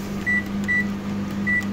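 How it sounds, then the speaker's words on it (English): Microwave oven humming steadily while cooking a tub of movie theatre butter popcorn, a constant low drone with faint periodic tonal whines layered on top, close and alone. "We are putting it in the microwave."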